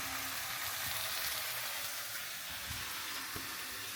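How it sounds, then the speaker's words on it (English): Breakfast food fries in a pan with a steady close sizzle and crackle, broken by a few soft knocks and clatters from the cookware. "So right now, this is it cooking. Cooking on the pan."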